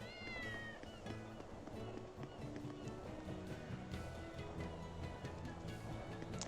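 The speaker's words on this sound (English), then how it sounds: "I can still hear more cats." Several cats meow in a video game, the high cries repeating over a dense, steady backdrop of game music and ambience, fairly faint and with no clear talk.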